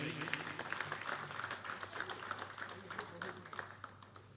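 Audience applause at a book launch event, a dense crackle of many clapping hands that holds steady throughout while someone talks over it.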